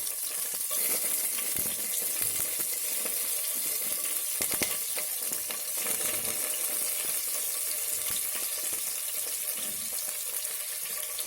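Curry leaves, cumin, coriander and mint frying in oil in a pan, a steady close sizzle with occasional crackles and faint stirring, no voices.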